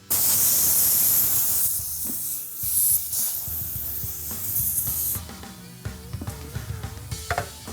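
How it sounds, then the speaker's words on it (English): Air hisses loudly and steadily while a tire is inflated through its valve during a drivetrain install, then gives way to brief clicks, clunks and hand handling noises with the hiss stopping and starting. "Got these little valve cores here that we have to screw in place with 40 pounds of tire pressure, trying to blow it out of my fingers"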